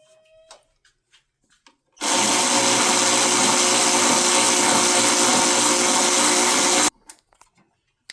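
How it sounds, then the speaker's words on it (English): An electric ratchet whirs continuously for about five seconds while working on a Dodge RAM 1500 during a radiator change, loud and steady, framed by quiet stretches with faint clicks and handling noises before and after. "This is my electric ratchet. Saves you a lot of elbow grease."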